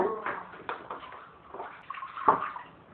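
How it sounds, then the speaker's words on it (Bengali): Water is poured over mutton in a pressure cooker for a potato curry, making soft, close splashing and gurgling in short uneven bursts, with one sharper slosh near the end. "জল দিয়ে দেবো।"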